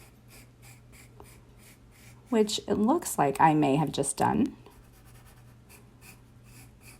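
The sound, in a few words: pencil drawing an owl doodle on paper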